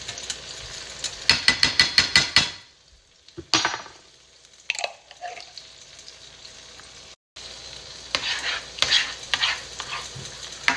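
Garlic sautés in a pan before butter prawns go in, with bursts of crisp sizzling and scraping stirs that come and go, dropping to near silence midway before resuming.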